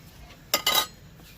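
Cauliflower paratha filling being mixed in a wok: two quick metal scrapes and clinks of a spoon against the pan, close by, with near silence around them.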